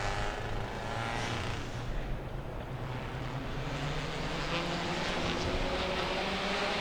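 Racing cars at the start of a PTT Cup OP Toyo Tire race in Thailand, 2025, produce a continuous, heavy engine roar that swells slightly as the field pulls away, with no clear talking.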